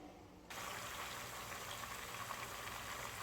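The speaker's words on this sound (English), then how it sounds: "I got my chicken frying up in the pan" Chicken frying in a pan of vegetable and olive oil, a steady dense sizzle that switches on abruptly and then holds evenly, close and fairly quiet.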